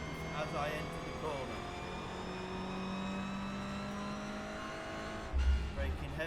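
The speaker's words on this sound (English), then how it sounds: "I'm braking heavy, down the gear, but I am off the brake as I enter the corner." A racing video game car brakes heavily and drops a gear into a corner, its engine note falling and droning fairly quietly under someone talking, with a low thump near the end.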